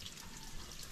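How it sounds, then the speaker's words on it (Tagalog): Water from a resort shower runs in a steady, dense spray, close and continuous with no talk over it. "Wala swimming pool pero may shower!"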